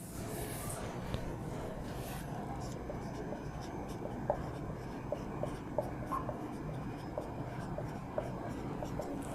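A pen scratches out maths terms by hand in short, close strokes with small taps between them, over a steady low background hum.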